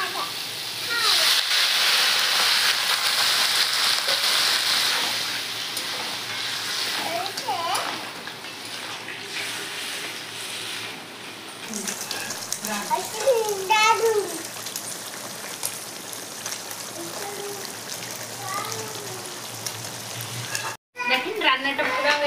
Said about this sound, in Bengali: কাঁকড়াটা খুব ভালোভাবে মশলার সাথে কষা নিচ্ছি। এখন আমি দিয়ে দেবো জল।